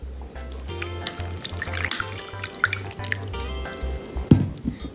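Milk poured into instant vanilla pudding mix in a bowl, a soft splashing trickle with light drips and a low hum underneath, ending in a small clunk.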